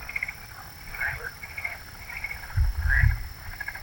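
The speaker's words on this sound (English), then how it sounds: "The frogs just drove us nuts. Boy, they were noisy." Frogs croaking at night near an RV resort in Foley, Alabama, a dense chorus of repeated calls at moderate distance, with a low rumble swelling underneath.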